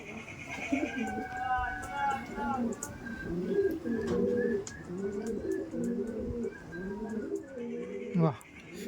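Red dom (laldom) pigeons coo in repeated low, throaty rolling phrases, close and steady throughout, with a faint background voice underneath.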